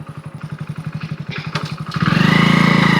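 A trekking motorcycle puttering along a forest track in the Nallamala forest, Nandyal range, its engine thumping rhythmically up close before revving into a steady louder drone.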